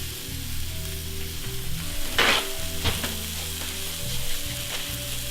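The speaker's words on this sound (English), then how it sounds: "during these minutes the onions have fried" Onions for a vegan hemp seed dip frying in a pan give a steady close sizzle with a brief stirring scrape midway and a low mechanical hum beneath.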